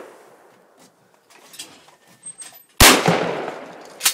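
Shotgun firing at clay targets on an outdoor shooting range, a single sharp, loud report that cuts through quiet background rustle and fades into a short echo.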